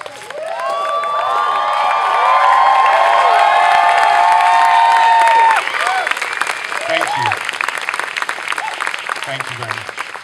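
An audience claps and cheers for volunteers at a community performance class, dense sustained applause with whoops and shouts, loud and close, easing slightly toward the end as a voice speaks under it.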